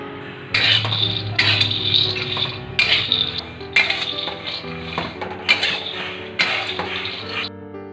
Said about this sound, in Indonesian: Sekarang kita akan menuang kacangnya di dalam wajan ini dan akan kita goreng